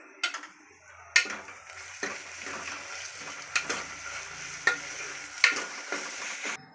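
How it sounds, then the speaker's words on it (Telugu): Ginger paste being stirred in a cooking pan, with a soft sizzle underneath and a spatula scraping and clicking against the metal roughly once a second, close by. "అల్లం పేస్ట్ వేసిన తర్వాత కలిదిప్పుకుందాం"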